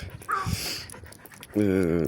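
A dog pants close by in quick, breathy bursts, ending in a louder whining pant, while a person talks over it outdoors.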